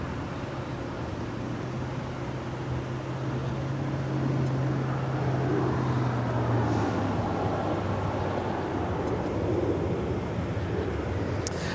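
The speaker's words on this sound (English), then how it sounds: "this is Lufthansa Flight 457 heading back to Frankfurt there in Germany. It's a 747-8 Intercontinental." Lufthansa Boeing 747-8 Intercontinental jet at Los Angeles International Airport, a steady broadband roar with a low droning hum that swells slightly midway, heard from a distance with wind noise and no talk.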